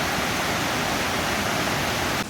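Three Salmon River near Rimouski rushing steadily, a broad even roar of flowing water heard alone and fairly loud throughout, without talk.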